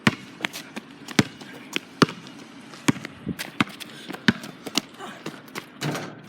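Basketball bouncing on a hard court, a series of sharp irregular thumps, some quick pairs and some spaced apart, close by, with faint background noise between bounces.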